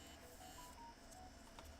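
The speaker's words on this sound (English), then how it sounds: "Sorry about all the noises with my phone." Short electronic phone tones, a few brief beeps and tonal blips over a faint steady hiss, quiet and close by, with no talking.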